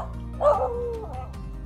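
A dog gives a short, high yelping bark followed by a brief whine at close range, loud against a quiet outdoor background near a Finnish Spitz.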